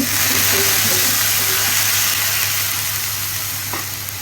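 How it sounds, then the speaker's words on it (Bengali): Onions fried until brown in a pan, a loud, close, steady sizzle that eases slightly toward the end, with a brief clink near the finish. "এই যে পেঁয়াজ ভাজা আমার হয়ে গেছে ব্রাউন ব্রাউন করে"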